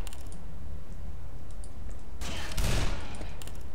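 A short, loud volley of gunshots in Black Mesa bursts out near the end of the sequence. Light clicking and tapping sounds come before it over a steady low background.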